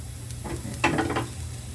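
A soft sizzle and crackle of oil frying in a pan, rising briefly louder midway, with no voices.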